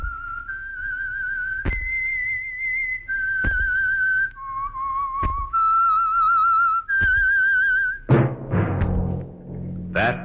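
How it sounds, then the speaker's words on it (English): A distinctive whistled tune signals the Signal Oil radio program The Whistler: a solo whistler carries a sequence of clear sustained melodic notes broken by brief sharp accents, ending in a fuller burst of music. "That whistle is your signal for the Signal Oil Program, The Whistler."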